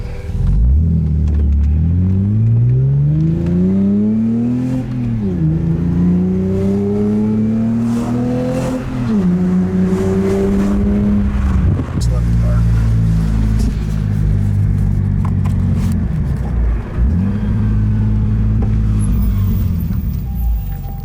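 Car engines revving at a canyon car meet, with a BMW M4 among the cars: loud, continuous engine roar rising and falling in pitch through repeated rev sweeps, close by and without talk.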